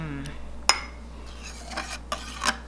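A spoon scraping thick cream off the top of a can of coconut milk, with a few sharp metallic clinks against the can's rim and soft scraping strokes between them, close up with no talk.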